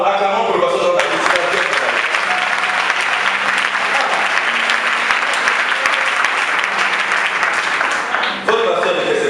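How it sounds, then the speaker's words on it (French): A church congregation at a Christian gathering breaks into loud, sustained clapping for a pastor, dense applause filling the room for several seconds before it cuts off abruptly near the end. "acclamons pour le pasteur Jean-Baptiste"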